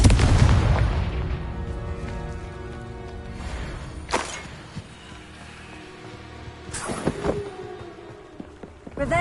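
A Confringo blasting spell detonates in Hogwarts Legacy with a heavy opening boom, followed by a couple of sharper blasts spaced seconds apart and fading, lingering rumbling tails in between.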